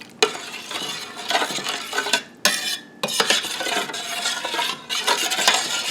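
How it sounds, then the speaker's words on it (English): A spoon stirs potato soup in a pot, scraping and clinking against the metal in close, uneven bursts over a hissing background, with brief pauses between strokes. "I'm just going to stir this up."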